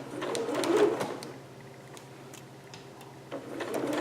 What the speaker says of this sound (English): I'm sewing a little bit right over my pins because my nicer fabric here moves around a lot.